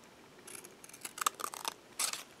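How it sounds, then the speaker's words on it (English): Scissors snip through a paper shipping tag being trimmed down the middle, a quick series of short crisp cuts heard up close and fairly faint, with no talking. "If you get big ones, you can cut them down a little bit. Cut them right in the middle,"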